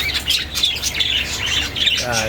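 Parakeets squawking and chirping in a homemade flight cage, a busy overlapping chatter of several birds close by, continuous and fairly loud for the whole stretch.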